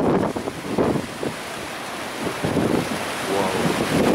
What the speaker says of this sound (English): Check the size of these waves.